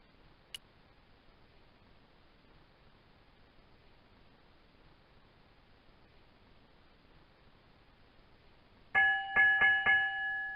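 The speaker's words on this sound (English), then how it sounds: "Two bells and all's well." Bells ring in Broken Sword 2 after a long near-silent stretch with one faint tick, then a few loud, close metallic strikes with a lingering ring close out the moment.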